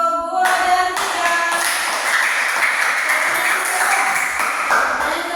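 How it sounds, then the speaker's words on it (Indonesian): An elementary classroom claps in applause for two student groups, a steady patter of many hands that continues for several seconds after a brief bit of speech. "tepuk tangan untuk kelompok 2 dan 3"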